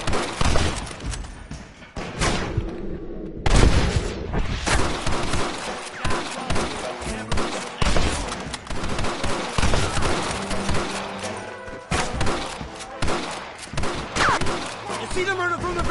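Dense gunfire fills a shootout in Red Dead Redemption, with rapid overlapping shots, bursts and impacts over a steady din, while voices shout beneath the fighting.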